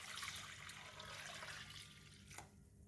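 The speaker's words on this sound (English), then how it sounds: "Put the anchovies in the large basin, add a lot of water" Water pours into a large basin of anchovies for washing, a continuous rushing splash that cuts off abruptly near the end, close and fairly soft.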